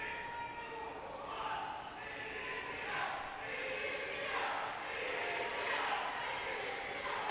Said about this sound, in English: Crowd on their feet as Cristobas goes off to the applause of the crowd